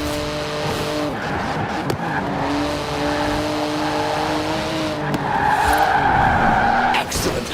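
A 700-horsepower rear-wheel-drive car skids with tyres squealing loudly and continuously over a roaring engine note that rises and falls. No one speaks.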